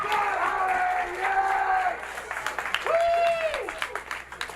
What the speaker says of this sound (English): people are already cheering for him